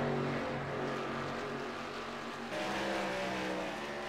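Race cars run laps on a short oval track during an American Short Track Association series race night, their engines a loud, continuous roar that drones steadily and swells slightly as they pass.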